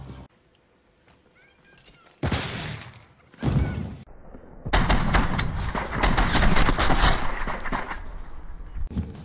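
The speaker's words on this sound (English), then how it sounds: "Right in front of me, just opening fire." Video game gunfire plays out in loud bursts, with heavy blasts and a long stretch of sustained rapid fire filling the second half, with no talking.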